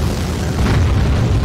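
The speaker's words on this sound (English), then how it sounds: "The explosions are now simulated" Deep, booming explosions from a space video game, loud and continuous with low rumbling bursts packed closely together and no voices.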